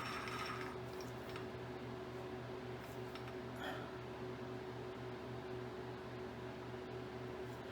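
The table of a Rockwell milling machine is cranked by hand, giving faint, quiet mechanical clicking and ratcheting over a steady low motor hum in a shop.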